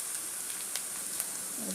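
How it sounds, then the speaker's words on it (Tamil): Sliced onions sautéing in a pan for garlic kulambu give a soft, steady sizzle with faint crackles, close but quiet, with no talk. "வெங்காயம் வந்து நல்லா வதங்கட்டும்."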